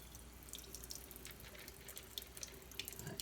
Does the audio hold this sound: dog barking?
no